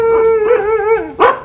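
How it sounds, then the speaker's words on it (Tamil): A dog close by gives a drawn-out, wavering howl-like bark followed by a short sharp yelp, loud and alone, outdoors near village homes. "நாய் கொலைக்கும்"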